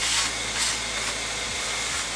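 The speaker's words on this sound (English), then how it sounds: "So now I'm gonna vacuum." A shop vacuum cleans up drilling chips left from modifying an FLSUN S1 3D printer, a steady broadband whoosh with a low motor hum running continuously and close by throughout.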